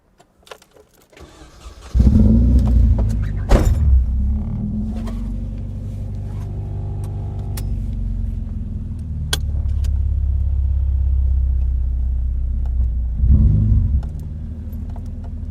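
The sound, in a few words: car with KADER ECU mods driving up and down street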